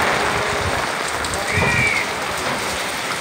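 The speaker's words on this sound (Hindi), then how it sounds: "बहुत तेज़ बारिश आ गई है," Heavy rain pouring down steadily at a seaside boat village, a dense continuous patter close by, with a faint voice murmuring beneath it.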